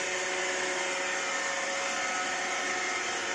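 Robot vacuum cleaner running with a wet cloth attached behind it for mopping, a steady, even motor whir with a faint tonal hum, continuous and close.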